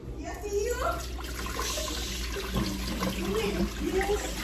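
Small vegetables are washed under a running tap, the water splashing and gurgling steadily up close while a person talks throughout.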